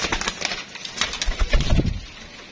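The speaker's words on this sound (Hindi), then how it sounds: "ये देखें ये गया दोस्तों कबूतर" A pigeon held by its owner gives soft coos amid rustling and a brief flutter of wings, heard close and unaccompanied by speech.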